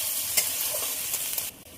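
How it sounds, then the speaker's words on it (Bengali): Chopped onion and green chilli fry in hot oil in a wok while being stirred, giving a steady close sizzle with a few sharp scraping strokes and no talk. "ভাজার জন্য নেড়ে দেবো।"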